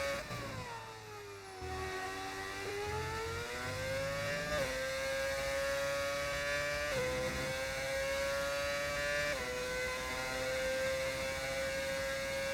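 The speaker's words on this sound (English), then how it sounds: "Is that an engine mod sound I hear?" A modded V8 Formula 1 car engine in a racing video game drones loud and steady at high revs, with several gear shifts stepping the pitch down and back up, no talk over it.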